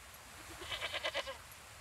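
A goat in Wartile, a card-driven strategy RPG, gives a single wavering bleat of about a second, moderately close against a quiet game background.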